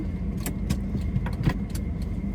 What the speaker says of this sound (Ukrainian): Авто в нас вже заведене.